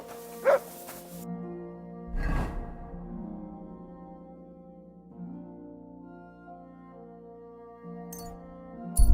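A dog in Kingdom Come Deliverance 2 gives a few short barks, a sharp yelp near the start and another bark burst shortly after, over a sustained low musical drone with a faint clink near the end.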